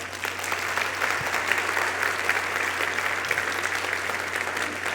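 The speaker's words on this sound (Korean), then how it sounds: "우리 모두 자신에게 따뜻한 위로와 격려의 박수를 크게 한번 쳐줍시다" An audience claps together in sustained, dense applause for the full stretch, steady and moderately loud, as at the end of a business leader's lecture, with no voices standing out.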